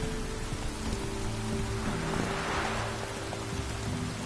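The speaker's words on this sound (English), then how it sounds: "it's drizzling" Steady rain falls in The Witcher 3: Wild Hunt video game, a constant dense hiss of drizzle and pouring rain with low background hum, loud and unbroken throughout with no voices.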